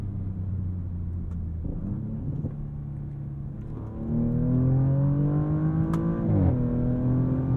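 A 2023 Audi S7 engine revving in manual mode, droning steadily at first, then rising in pitch toward redline, dipping sharply at an upshift and climbing again. The engine note is close, loud and continuous, with no talk over it.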